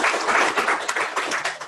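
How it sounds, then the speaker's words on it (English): An audience applauds a presenter at a healthcare cybersecurity talk, a dense, steady patter of many hands clapping, fairly loud and close, with no voices over it. "so let's give Dara a round of applause."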